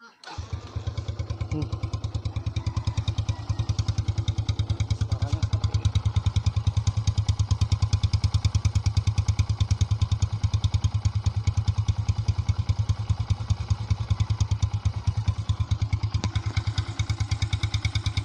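A Yamaha Byson motorcycle engine with a cut-down exhaust muffler runs steadily and loudly close by, its deep, throbbing exhaust note holding a rapid, even pulse throughout.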